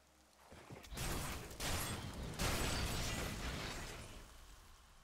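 Steady rain pours down in Diablo 3 over a burning house, a broad continuous hiss that swells in loud bursts and stays dense throughout, with no voices.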